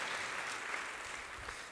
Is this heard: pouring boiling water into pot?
no